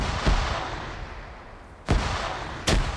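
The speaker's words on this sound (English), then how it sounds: "More grenades being thrown." Grenade explosions go off in a PvP military video game match: three sharp, fairly loud blasts spaced unevenly over a constant background rumble, with no talk on top.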